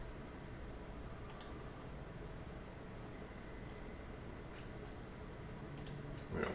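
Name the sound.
mouse clicking on computer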